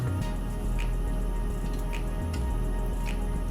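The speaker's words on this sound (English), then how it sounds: "I'm going to add in my tofu, and I'm going to stir it around." Tofu stirred in about three tablespoons of avocado oil in a hot pan for a stir fry, giving a steady close sizzle with faint wet drips and soft scraping from the stirring.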